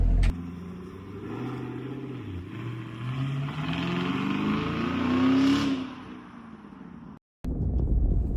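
A Chevrolet Camaro SS drives along with its engine humming and rising in pitch as it accelerates, heard from inside the car, before a brief cut and a return of steady road noise.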